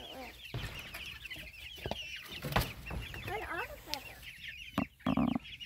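Frizzle and silkie chickens cluck and chatter nearby in short, busy bursts, with occasional soft voices and a few sharp knocks in the background.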